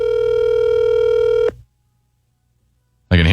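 A mobile phone rings with a steady electronic tone while misplaced inside a Varden fleece, held for about a second and a half, then silence before a sudden loud burst returns.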